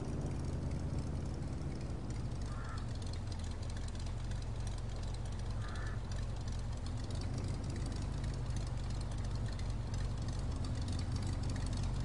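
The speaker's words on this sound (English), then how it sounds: "You can hear the engine from here." A restored 1960 Chevrolet El Camino's engine runs with a steady, deep rumble close by, holding an even low drone throughout with no talk over it.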